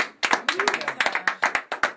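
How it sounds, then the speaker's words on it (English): A small audience claps for Keith and Raquel at a Coalition for Compassion event, a few pairs of hands striking in loose, uneven bursts, close and fairly loud, with a voice briefly audible. "Big round of applause for Keith and Raquel."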